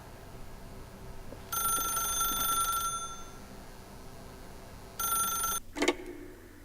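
An old-style telephone bell rings in The Stanley Parable video game, two bursts of shrill metallic ringing separated by a pause, then a short clatter.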